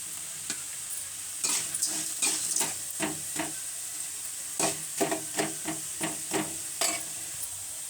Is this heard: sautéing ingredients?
yes